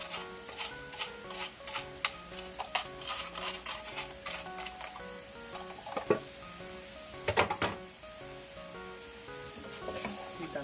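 Food stir-fried in a pan with salt and sugar during a rushed two-dish cooking session: a spatula clicks and scrapes against the pan in quick, uneven taps over a soft, steady sizzle, close by, with no talking.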